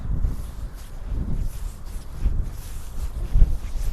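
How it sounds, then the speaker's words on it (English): Wind gusting outdoors on Summerhouse Hill near Folkestone, a low rumbling buffet of wind against the microphone that swells and eases in uneven gusts. "Oh, here comes the wind."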